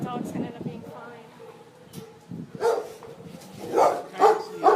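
Dogs barking and yipping at a South Los Angeles animal shelter, a mix of scattered barks and whimpers with bursts growing louder toward the end, heard under a person talking.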